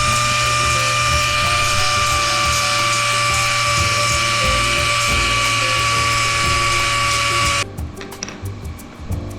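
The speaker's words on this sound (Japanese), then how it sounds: "サンダーで削っております" A power sander grinds steadily against plywood being shaped into a handle cam for a homemade well pump, a loud continuous high whine that cuts out near the end, leaving a few faint clicks and handling noises.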